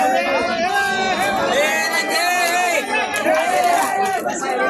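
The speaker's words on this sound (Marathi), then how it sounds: "गर्दी वाढतच चालली आहे." A large festival crowd at Raigad fort during the Shivrajyabhishek celebration, around one in the morning, fills the air with a continuous babble of many overlapping voices, loud and close, with some shouting or calling rising above the din.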